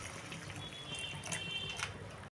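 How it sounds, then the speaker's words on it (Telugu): Steady splashing of water poured into a cooking pot of taro curry, continuous and close, with a couple of brief brighter clinks near the end. "కొంచెం వాటర్ కూడా పోసేసేసుకోండి"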